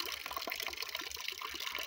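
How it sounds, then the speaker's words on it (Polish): Cold water streams steadily from a tap or spring outlet, a continuous close broadband rush with slight splashing fluctuations and no talk over it. "Jak jest moc wody? Teraz jak to nagra, tak?"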